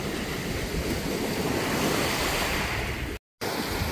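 Sea waves wash onto a pebble beach at Sevastopol in a continuous, loud, rushing surge with some wind noise, interrupted by a brief dropout near the end.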